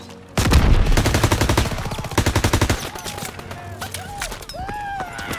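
Rapid automatic machine-gun bursts and heavy gunfire from a World War II beach assault in Call of Duty WW2, loud and close, rattling in fast rhythmic volleys for a few seconds before fading under lingering battle noise and shouted voices.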